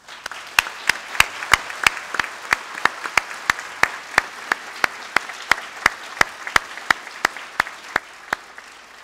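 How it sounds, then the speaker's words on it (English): An audience at a spring university convocation applauding a jazz quintet: sharp, evenly spaced claps, about three per second, ringing out distinctly over a faint roomy background, as if from a few nearby clappers. "let me ask you to join me in giving the Brian Sand Quintet a very warm round of applause."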